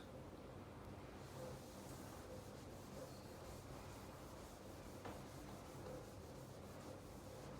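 Writing is rubbed off a board during a maths lesson, producing a steady, continuous soft scrubbing hiss that runs without a break and stays close and even in level.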